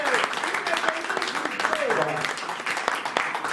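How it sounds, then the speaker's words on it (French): A press-conference crowd at Paris's Zénith applauds a Congolese singer in scattered, uneven bursts of clapping under a voice talking through it. "Encore un tonnerre d'applaudissements pour le roi de la parole."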